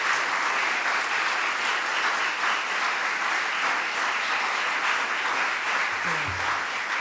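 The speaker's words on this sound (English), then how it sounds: "Give yourselves a round of applause." A room full of people at a New York State governor's announcement breaks into sustained, dense applause, steady and loud throughout, with a brief low tone near the end.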